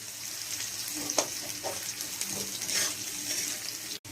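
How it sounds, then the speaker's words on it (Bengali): Carrots frying in a pan for pasta give a steady, close sizzle with light scraping as they are stirred, continuous and fairly quiet throughout, with no voices. "গাজরটা অল্প ভেজে নিই, একটু নরম হলে পেঁয়াজ দেবো।"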